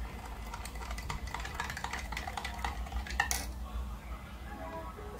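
A metal spoon stirring four spoonfuls of salt into a container of water, with soft irregular clinks and scrapes against the vessel, quiet and close, ending in one sharper tap.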